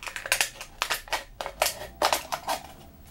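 Scissors snip through an aluminium drink can to cut it in half, giving a close series of sharp metallic crunching cuts in an irregular rhythm, with no talk.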